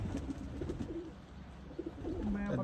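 Soft, repeated pigeon cooing in low murmuring phrases over steady background noise, moderately close and continuing throughout.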